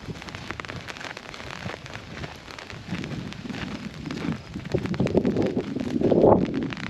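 Steady rain patters and hisses on surfaces nearby, swelling slightly louder toward the end, with no voices.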